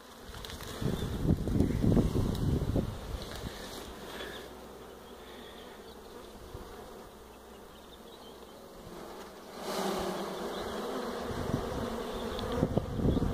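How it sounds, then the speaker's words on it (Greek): A large honey bee swarm buzzes steadily and up close while being gathered and set over a hive, a dense continuous drone that swells louder at the start and again near the end, with no talking. "είναι μεγαλούτσικο το μελισσάκι από ό,τι φαίνεται, ο αφισμός μεγαλούτσικος"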